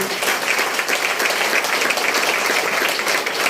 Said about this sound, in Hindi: मैं चाहता हूँ कि जोरदार तालियां होनी चाहिए